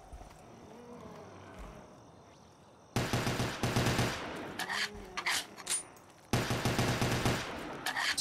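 Rapid automatic gunfire in Black Ops 3 custom zombies mode, loud sustained bursts at about three and six seconds and shorter volleys between, over a quieter game background with faint growls.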